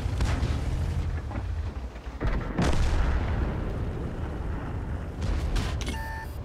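Artillery shells rumble and boom in a World of Tanks battle around a Soviet IS-2 heavy tank, a broad continuous roar of blasts with sharper impacts breaking through, loud and dense throughout.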